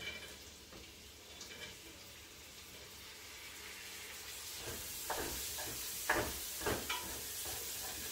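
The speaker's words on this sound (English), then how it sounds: "So now, we put the celery in." Celery frying in bacon fat with browned onions for collard greens, a soft steady sizzle that swells and grows louder partway through, with a few clinks and stirring scrapes near the end, close by and without talk.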